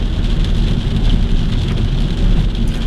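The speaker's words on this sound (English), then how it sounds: "But we need this rain." Steady, loud rainfall pouring down without a break, a dense wash of drops hitting surfaces with a low rumble underneath, heard from inside a car on a road.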